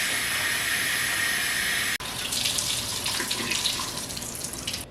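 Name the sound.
washing chicken skin under running tap water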